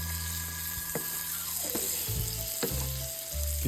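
Food sizzling and frying steadily in a pan, with a few soft scrapes of stirring now and then, fairly close and continuous with no talk.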